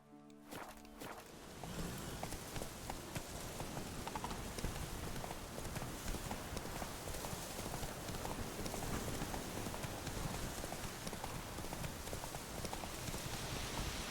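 Roach, a horse in The Witcher 3, clip-clops along in a steady, continuous walking rhythm at close range over a constant outdoor ambience, with no talking.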